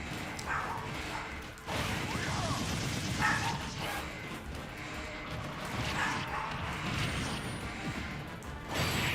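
A small dog barks repeatedly inside a busy Super Smash Bros. Ultimate match, with its yips mixed among crashes, whooshes and other game noise.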